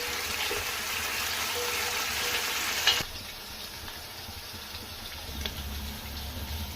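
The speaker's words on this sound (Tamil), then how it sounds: "ஆனியன் நல்லா ட்ரை ஆகுது பாருங்க." Onions frying in a pan for chicken curry, a steady loud sizzle that drops abruptly partway through to a quieter bubbling with a light stirring clink.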